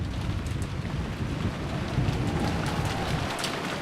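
Thunder and heavy rain from the Umineko When They Cry visual novel: a loud, dense, steady downpour with a deep rumbling roll of thunder underneath, continuous for a few seconds without voices.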